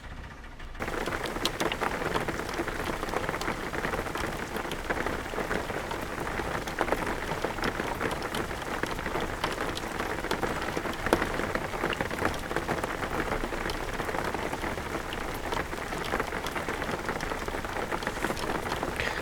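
Steady rain drums on a car while it drives in the video game Jalopy, a dense, even hiss that stays constant and fairly loud throughout with no voices.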